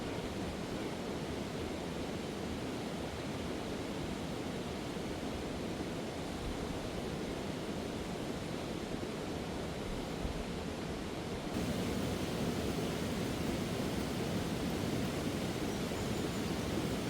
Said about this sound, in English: I hope you can hear me over the water. Very powerful.